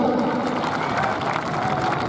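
Spectators at a Punjabi kabaddi match clap and cheer in a dense, steady wash of crowd noise, fairly distant and continuous throughout.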